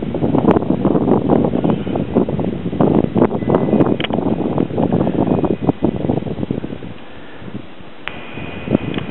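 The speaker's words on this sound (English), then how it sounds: "All right, there comes some cool wind." Gusty wind buffeting a microphone outdoors beside a small LED wind turbine, a steady rumbling roar that swells and eases, loud and close, with no speech.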